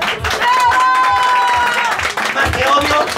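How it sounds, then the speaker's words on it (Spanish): Audience at a Mexican clown show applauding a contestant, a dense burst of clapping and cheering with loud rhythmic beats in the low end and voices mixed in. "¡El aplauso para el número dos!"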